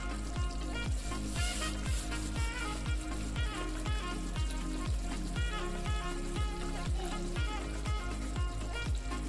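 Chicken korma cooks under a lid on a low flame, a close, continuous sizzle marked by a steady, regular pulse of bubbling pops, with no talking.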